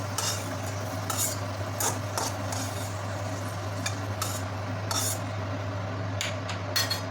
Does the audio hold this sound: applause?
no